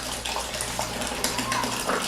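Five litres of water are poured over a skimmer into homebrew beer wort, giving a close, continuous splashing gush with small irregular bursts, and a voice talks faintly underneath.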